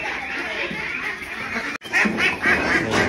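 Several ducks quack in a loose burst of calls, fairly close and steady, with a short break midway before the quacking resumes more loudly.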